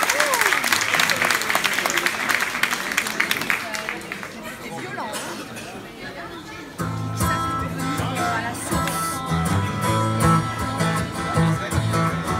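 A concert audience in Toulon applauds loudly for several seconds, the clapping fading as a voice talks over it. Music then comes in.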